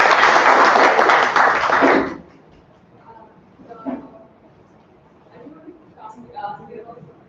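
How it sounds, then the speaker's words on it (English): A meeting audience claps for a guest in a loud, dense burst of applause lasting about two seconds, then it cuts off abruptly, leaving quiet room sounds and faint talk. "So big round of applause."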